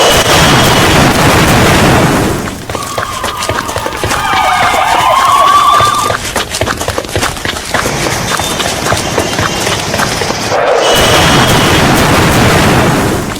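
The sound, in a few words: explosions and grenade attack at Pakistani police training camp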